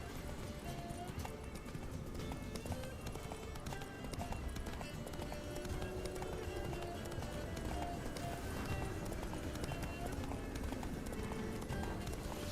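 Horse hooves clip-clop at a steady gallop through a game world in The Witcher 3, loud and continuous for the whole stretch, with a faint whinny and a little background voice now and then.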